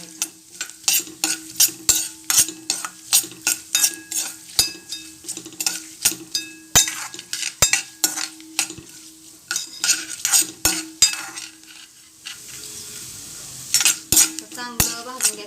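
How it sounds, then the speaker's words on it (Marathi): Dry roasting in a pan for fried modak, with a spoon stirring and scraping in a steady run of sharp clinks and scrapes, close and fairly loud, then a softer rustling stretch near the end. "चांगलं भाजून घ्यायचं, खरपूर चांगला वास आला पाहिजे"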